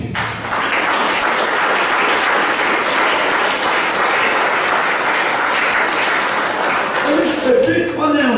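A church congregation applauds loudly and continuously to acclaim Jesus during a French-language worship service; the clapping is dense and steady throughout, with a voice surfacing briefly near the end.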